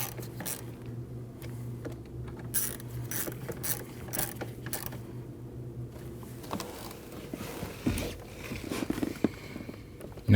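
A ratchet tightens the bolts on a brake reservoir of a 2013-2019 Ford Escape 1.5L, giving repeated close mechanical clicks in irregular bursts over a low steady hum.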